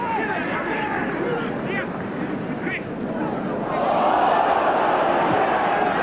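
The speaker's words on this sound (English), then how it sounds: "Crowd calling for a penalty." Rugby league crowd at a 1993 New Zealand versus Great Britain test in Leeds, a dense, loud roar of massed voices swelling into a sustained appeal for a penalty in the second half.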